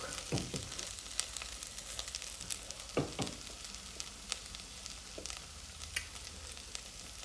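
Jamaican rice and peas cooking in a pot, a faint, steady bubbling sizzle with scattered small pops and crackles, close by and with no talking.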